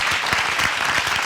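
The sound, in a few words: audience applause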